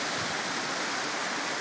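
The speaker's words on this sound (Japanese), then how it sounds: "カムイワッカ湯の滝" Steady broadband rush of the Kamuiwakka hot spring waterfall, warm water tumbling continuously with a dense, even roar and no voices.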